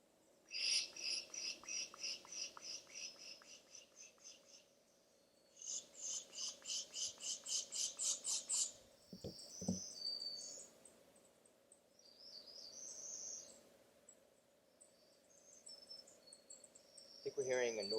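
A northern parula warbler sings outdoors on a June nature walk, with repeated bursts of high, buzzy rising trills, some nearer and some fainter, plus scattered other bird calls and low ambient noise.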